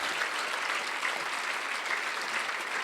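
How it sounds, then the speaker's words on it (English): Audience at a dinner event breaks into sustained, dense applause, steady and fairly loud for the whole stretch with no voices standing out. "they deserve a big round of applause"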